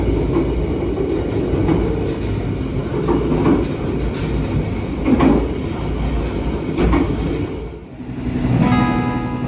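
The KA Kertanegara economy-class train runs on the southern line toward Cirebon and Jakarta: a steady, close rumble with rhythmic clickety-clack of wheels over rail joints and a wheel squeal near the end, with no talk.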